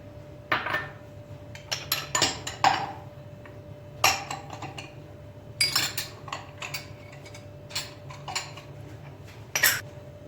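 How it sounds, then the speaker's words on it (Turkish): Liquid ingredients for pogaca dough are stirred in a bowl, with a utensil clinking and scraping against the sides in irregular bursts over a low steady hum, and nobody speaking. "malzemelerimizi sıvı olanları ekledikten sonra biraz karıştırıyoruz"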